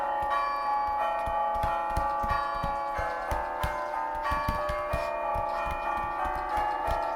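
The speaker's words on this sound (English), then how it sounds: "you can see the bells I'm playing are ringing" Bells ring from inside a bell tower as a tune is played on them, with sustained overlapping tones and a steady rhythmic mechanical clunking under the ringing.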